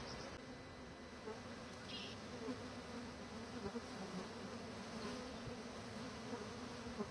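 Dense, continuous buzzing of a large honeybee swarm, a steady droning hum with no pauses, close and fairly loud.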